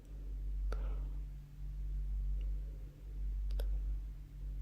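Computer mouse clicks on an on-screen button: one sharp, close click early on and a quick double click later, quiet and crisp over a low, steady room hum.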